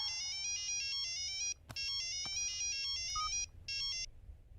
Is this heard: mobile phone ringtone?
yes